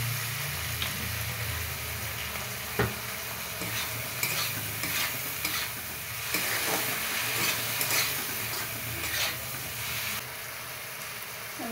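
A pan of food is stir-fried with chili powder and soy sauce, giving a continuous loud sizzle and scraping stir strokes with utensil clatter, and no voices.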